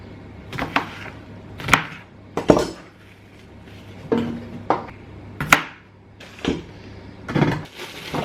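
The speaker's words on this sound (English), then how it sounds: "I will chop them up and do what I can with them" Potatoes being chopped on a kitchen board, about a dozen sharp separate knife strikes in an irregular rhythm with short pauses between them, close and clear, mixed with light clinks of dishes and cutlery.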